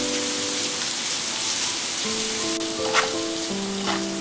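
Onion with cumin seeds, mustard seeds, urad dal and spices fries in hot oil for a fish curry, producing a dense, steady crackling sizzle close by with a few sharper pops.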